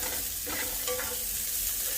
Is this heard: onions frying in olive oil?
yes